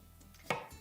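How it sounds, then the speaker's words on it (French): A knife slices through a small grape tomato, cutting it in half on a board; one short, crisp cut stands out clearly against a quiet background. "des petites tomates raisins que je coupe tout simplement en 2"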